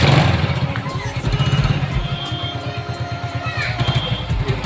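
A Hero Super Splendor motorcycle engine starts and settles into a steady, throbbing idle after a block change, a rapid even putter up close with faint background voices.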